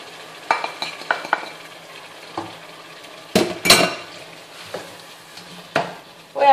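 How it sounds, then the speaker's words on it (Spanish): Chicken pieces with spices are stirred in a pot for Arabic chicken seffa. Metal utensil clinks and scrapes come in irregular bursts over a faint sizzle, close and fairly loud, with no voices. "Voy a mezclar todo y voy a dejar un poco que se rehoga todos los trozos del pollo"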